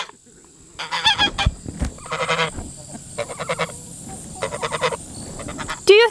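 A goose in a summer garden honks repeatedly in loud, nasal bursts, several grouped calls spaced a second or so apart, close by with little else around.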